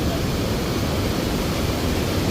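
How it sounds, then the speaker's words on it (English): Rhine Falls waterfall roars as a dense, loud, unbroken wash of noise filling the whole clip, close and steady with no breaks. "And this is the Rhine Fall. It is spectacular."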